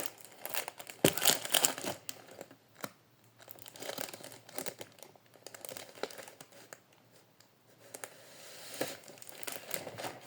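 A sheet of drawing paper handled by hand gives off irregular crinkling and rustling bursts, louder at the start and again near the end, with quiet gaps between.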